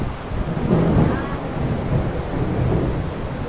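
Heavy rain with thunder during an indoor healing service, heard as a steady, dense roar of downpour with low rumbling swells that holds through the whole stretch without pause.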